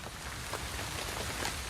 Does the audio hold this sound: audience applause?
no